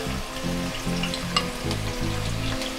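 Finely chopped garlic, ginger and green chillies sautéing in hot oil, a close, busy sizzle with crackles and stirring scrapes, steady throughout with no voices.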